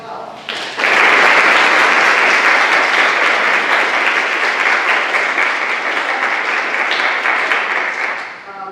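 An indoor audience applauding Dr. Claude Baker, a composer in residence from Indiana University Bloomington, at an organists' gathering: loud, dense, sustained clapping that swells in quickly, holds steady for several seconds, then tapers off.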